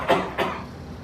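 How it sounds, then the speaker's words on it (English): Two short coughs, close and moderately loud, muffled as if into a sleeve, spaced about a third of a second apart, with no talking. "what you should do is then cough into your sleeve."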